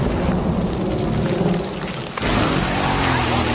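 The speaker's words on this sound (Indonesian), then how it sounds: "hujan badai kembali terjadi sejak tadi malam" A heavy rainstorm with thunder, a steady wash of pouring rain with a deep rumble that dips briefly and then resumes at full strength.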